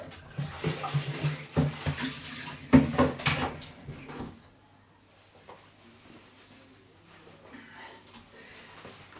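Running tap water splashes over hands being rinsed after handling raw roast beef. A few seconds of uneven, gushing splatter are followed by a sudden drop to faint, quiet trickling and room sound.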